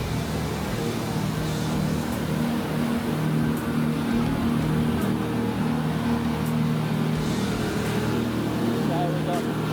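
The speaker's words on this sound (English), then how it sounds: "250 horsepower Yamahas on the back end." A speedboat runs at about 30 knots on twin 250 horsepower Yamaha outboards, a steady droning engine hum with rushing water and wind across the whole stretch, while people talk nearby.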